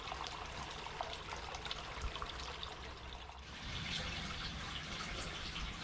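Water churns and trickles in a koi pond inside a polytunnel, a soft, continuous splashing that grows slightly fuller partway through.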